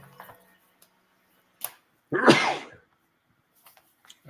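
A single sharp sneeze bursts out, close and fairly loud, during a horse-racing discussion show, with a few faint clicks and small noises around it in an otherwise quiet room.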